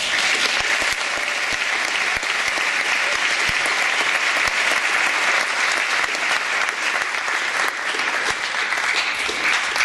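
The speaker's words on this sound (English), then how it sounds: "I invite you once again to express your recognition by applause." Sustained audience applause at a college honors convocation after scholarship awards for outstanding theater work, a dense, even roar of many hands clapping that holds steady for about ten seconds.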